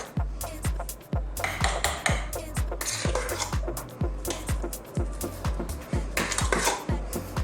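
A metal utensil taps mashed potato topping onto a beef or lamb shepherd's pie, making a quick regular series of sharp clinks against the dish, close and prominent with no talking.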